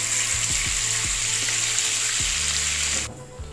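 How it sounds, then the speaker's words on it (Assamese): Onions fry in melted butter in a pan for butter chicken, giving a loud, continuous crackling sizzle that stops abruptly near the end. "পিয়াজখিনি এতিয়া অলপ ভাজি লওঁ।"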